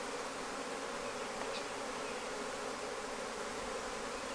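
Swarm of agitated honeybees launching off a frame in a red Flow hive, a steady dense buzz filling the air at moderate level, no voices.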